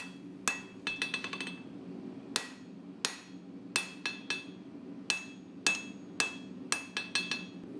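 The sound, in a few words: hammer forging Damascus Bowie knife blade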